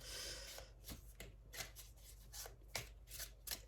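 Oracle cards are shuffled by hand in quick, quiet bursts, a series of soft riffling swishes and taps close up with no talking.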